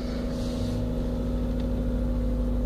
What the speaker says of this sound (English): sounds like an old Miata